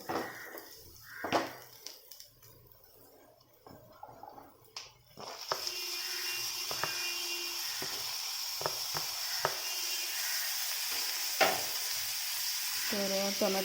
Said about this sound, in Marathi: कांदा आपला चांगला लालसर असा भाजत आला अजून एक पाच मिनटं ह्याला मी भाजून घेणार आहे